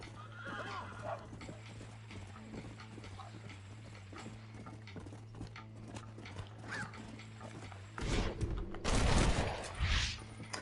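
Horse from the Red Dead Redemption video game, hooves clip-clopping and a neigh under a steady low game hum, ending in a louder burst of scuffling and whinnying; no talk over it.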